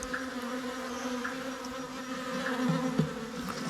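Honey bees buzz steadily around a small hive box as frames are transferred during a hive capture, a dense continuous droning swarm close by with no talking.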